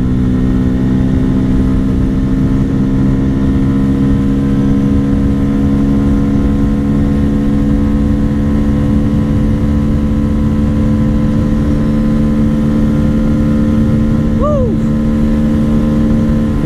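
A Bajaj Pulsar F250 motorcycle rides at high speed on an open road, its engine holding a loud, steady drone throughout. Wind roar runs beneath it, with a brief rising whistle-like tone near the end.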